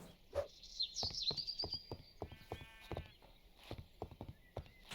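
Sheep in modded Minecraft making brief bleats among a run of sharp clicking block and footstep sounds, quiet and close, with no talking.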